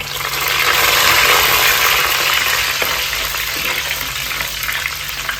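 Curry leaves and chopped onions fry in hot oil in a pan for a coconut-free fish curry, giving a steady, loud broadband sizzle that swells early and then holds evenly throughout.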